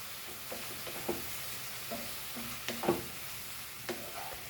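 Beef dusted with Kashmiri red chili powder gets stirred in a hot pan for a Goan chilli fry, a soft sizzle broken by scattered spatula scrapes and knocks, one louder clatter near the end, no voices.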